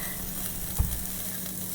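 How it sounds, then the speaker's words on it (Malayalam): Eggplant pieces sauté in a pan for a Kerala-style chukauni, giving a steady, soft sizzle with light stirring scrapes and one brief knock near the middle. "അതും കൂടി ഇതിലേക്ക് ഇട്ട് നമുക്കൊന്ന് നന്നായിട്ട് വഴറ്റിയെടുക്കാം"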